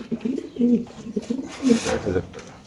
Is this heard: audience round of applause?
no